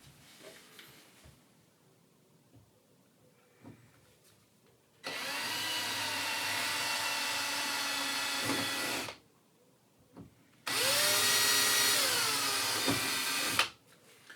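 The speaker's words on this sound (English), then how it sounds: "So I just need the drill" An electric drill whirs in two steady bursts of about four and three seconds, separated by a short pause in a quiet room, while building an N-gauge model railway layout.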